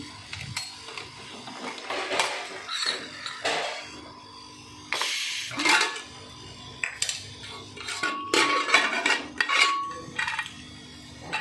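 Clinks and metallic clatter as a pressure cooker of mutton and potatoes is handled and opened after cooking, intermittent rattling and scraping of lid and pot at close range.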